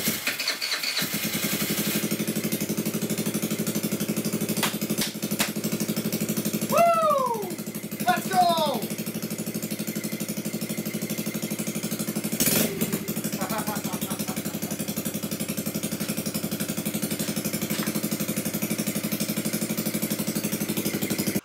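A Honda Ruckus clone scooter's GY6 139QMB engine with a 100cc big bore kit runs steadily with a constant low hum and rattle, while a voice speaks briefly over it partway through.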